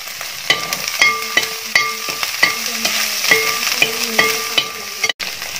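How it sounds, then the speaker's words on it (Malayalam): Green chillies frying in a pan for chicken masala, with a loud sizzle under repeated rhythmic clinks and scrapes of a spatula against the pan, and no voices. "നമുക്ക് ഇതിലേക്ക് പച്ചമുളക് ആഡ് ചെയ്യാം."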